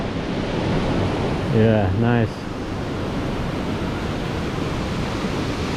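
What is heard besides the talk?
Fin del Mundo waterfall in the Amazon jungle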